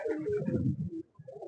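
A close pigeon with a closed tail lets out one rolling coo, then a brief pause and a softer follow-up note, alone and fairly quiet.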